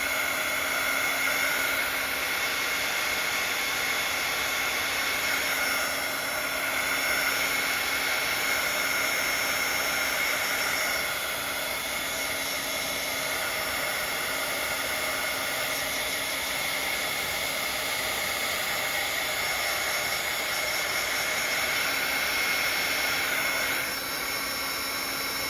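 A handheld hair dryer blows continuously and steadily at close range while drying a Bible journal page, a constant whooshing hum with slight fluctuations and no talk.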